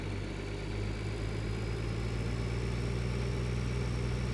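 Steady tractor engine idling in Farming Simulator 2013, a low continuous rumble with a constant mid-pitched drone, close and even throughout with no talk.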